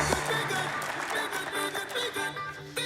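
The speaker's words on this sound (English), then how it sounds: "How about a big round of applause for John Goodie and Angela Booker?" Audience applause and clapping for John Goodie and Angela Booker at a mystery guests show, steady and moderately loud throughout, with a few voices mixed into the crowd.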